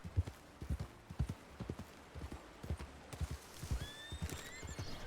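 Several horses clip-clop in quick bursts of hoofbeats, then a high whinny rings out near the end, in the video game RedM.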